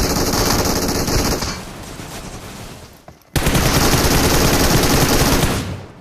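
An MG3 machine gun fires in a battle royale video game. Two long, loud, sustained bursts of automatic fire are split by a brief silent gap, with no talking.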